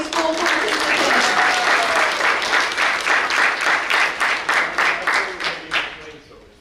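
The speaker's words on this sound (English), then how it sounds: "Big round of applause for all of our high school participants." An audience applauds high school participants at a secondary social studies bee, sustained clapping from a large crowd filling the hall, then tapering off into scattered claps near the end.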